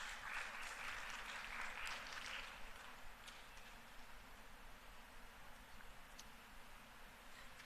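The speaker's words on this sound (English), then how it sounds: "Ladies and gentlemen, a round of applause as the team joins the stage." Very faint, distant applause from a renewable energy conference audience as a panel walks onstage, strongest at first and then thinning into a low, steady patter.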